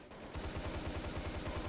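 Rapid automatic SCAR rifle fire in the online shooter Truy Kích, a steady burst of evenly spaced shots that starts after a short quiet moment and continues to the end.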